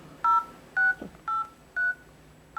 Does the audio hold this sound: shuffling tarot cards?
no